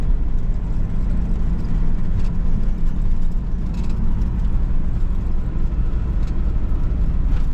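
A car engine drones steadily from inside the cabin while driving coastal back roads on Scotland's North Coast, a loud, constant low rumble with road noise and no change in pace.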